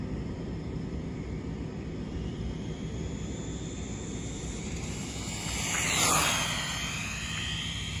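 A Kyosho Turbo Raider RC car with a 9T 4370kv brushless motor on 3S power makes a speed run across an open area, a rising, whining pass that peaks near the end above steady wind and background noise.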